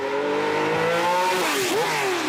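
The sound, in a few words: Le Mans prototype with 600 hp V12 engine accelerating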